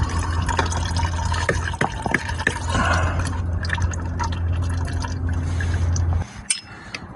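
Oil draining from a ZF 6HP automatic transmission, a steady liquid trickle and splatter into a tray, with a constant low hum behind it and a few small knocks before the flow tapers off near the end.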